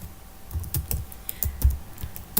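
Quiet clicking of computer keyboard keys as C++ code is typed, irregular taps in short clusters, close and soft, with no voices.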